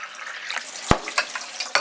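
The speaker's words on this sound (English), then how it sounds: "I'm just going to add my water and top it back up like that." Spring water runs from a cottage kitchen tap into a glass jar while kombucha is topped up for bottling: a steady close splashing hiss broken by a few sharp glassy clinks.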